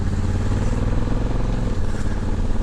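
A 2020 Honda Africa Twin Adventure Sports DCT motorcycle in automatic touring mode rumbles steadily while riding uphill, a loud, close engine drone with a slight dip as it shifts, under heavy wind buffeting.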